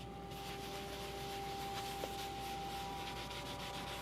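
A Scrub Ninja brush scrubs stains on a sprayed surface, a faint continuous rubbing and scratching texture with a steady repetitive rhythm, no talking.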